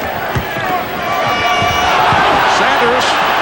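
A packed basketball arena crowd at a 1991 Pacers–Celtics deciding playoff game swells into a rising roar of reaction, with bouncing-ball thuds early on and a commentator talking over the noise.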